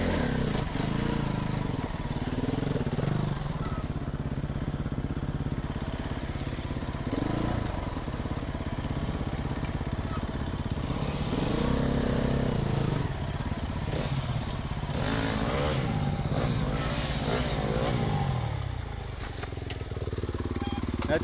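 Motorcycle engine running steadily throughout a ride on a wheelie-prone bike, with rising and falling revs, road and wind noise, and occasional voices underneath.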